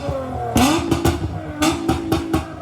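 An Acura TL Type S with its 3.5-liter V6 revving in several quick blips, each rising roar cutting off sharply, fairly close and loud with no talking.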